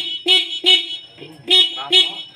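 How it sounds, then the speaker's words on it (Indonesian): Horn of a Honda Supra X 125 motorcycle, blown four times in short loud toots with brief gaps between them, close and clear, with no voices over it. "Kemudian kalau kita cek di tombol klakson masih keras."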